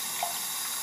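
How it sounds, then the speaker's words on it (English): Tap water runs steadily into a cup, a continuous close hiss and splash of filling liquid with no voices. "I'm just filling up her bowl with water. I mean, her cup. Her cup with water."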